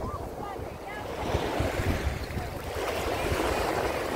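Gentle sea waves washing onto Eforie Nord beach on a calm morning, a continuous soft surf wash with wind buffeting the microphone, swelling slightly midway and staying steady to the end.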